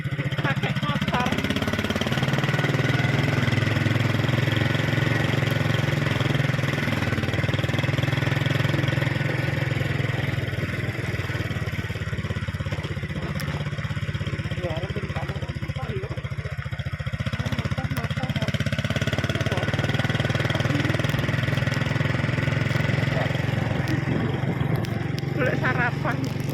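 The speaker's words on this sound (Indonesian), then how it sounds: "Pakai motor." Motorcycle engine running steadily on a rainy ride from home to the rice fields, a continuous low hum throughout with light road and rain noise and some talk over it.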